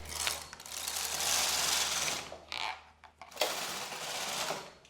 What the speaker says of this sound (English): I'm going to take my carriage from holding position and knit across from left to right